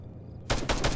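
Burst of .50 caliber machine gun fire aimed at a Kajman helicopter in Arma, starting abruptly after a quiet moment and continuing as a loud, rapid rattle.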